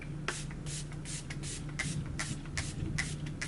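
Makeup setting mist is sprayed onto the face in a quick series of soft hissing puffs, close and fairly quiet over a steady background hum.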